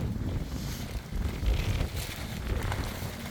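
Strong wind gusts roar and buffet the microphone at a farm greenhouse, with a continuous rushing noise that swells in bursts and flutters of covering material, no voices.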